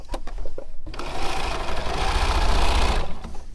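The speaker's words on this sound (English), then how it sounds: "I am sewing right next to the other seam" A Bernina sewing machine stitching a seam on fabric, a steady close mechanical whir with rapid needle patter that starts after a few short taps and runs continuously before stopping near the end.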